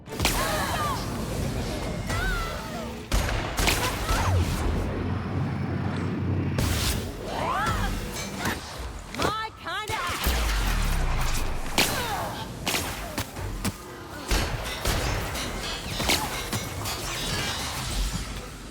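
Heavy weapons fire in The Outer Worlds, loud repeated bursts and whooshing impacts with thuds running almost continuously through a busy combat mix, with no talk over it.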